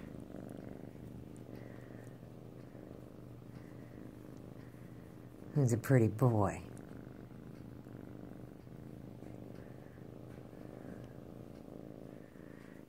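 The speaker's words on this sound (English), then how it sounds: "And I got a nice purr." A timid cat from a foster home purrs with a steady low rumble throughout. A person speaks briefly over it, and a short louder noise breaks in midway.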